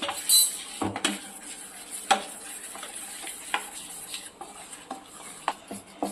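A spoon stirs batter in a metal vessel after Eno is added, giving scattered clinks and scrapes over a faint background hiss, close and fairly quiet, with no voices.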